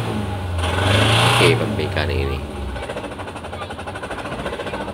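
A Suzuki Carry engine, which had been cutting out and refusing to restart once hot, runs with a rough revving surge that settles into a steady, rhythmic idle up close, while a voice talks over it.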